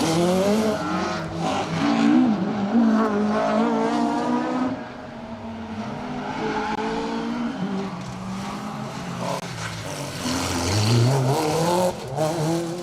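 Rally cars, including a Mitsubishi Evo 9 and Evo 5, race on the tarmac stage at Cadwell Park during the Alan Healy Memorial Rally. Engines roar loudly and change pitch as they rev and shift, with a short dip in the middle.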